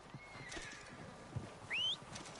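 Horses in the Red Dead Redemption video game approach with steady clip-clop hoofbeats and one loud whinny near the end, over an outdoor ambience.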